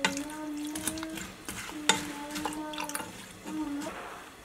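Clear water pours into a small pot holding halved apples, a light splashing trickle with small bumps, accompanied by soft sustained tones in the background.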